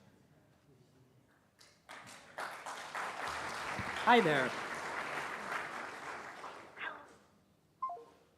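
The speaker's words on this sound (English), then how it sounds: "Because everyone was applauding," A conference room audience at a Drupal event breaks into applause during a live phone-call demo, a burst of clapping that swells midway and tapers off, with a brief voice and scattered tones around it.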